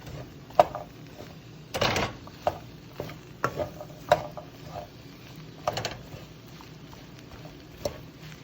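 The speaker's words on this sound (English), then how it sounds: "Okay, stirring the spinach in." Spinach being stirred into a pot for a one-pot chickpea meal, with soft, uneven scrapes and light utensil clinks coming every second or so, close by and fairly quiet, with no talking.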